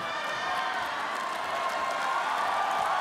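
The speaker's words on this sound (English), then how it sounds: "The crowd here, the heavy Filipino crowd in Macau, appreciating it." Heavy Filipino crowd cheering at a ONE Championship fight in Macau, a steady roar of arena voices that swells slightly, with commentary talk under it.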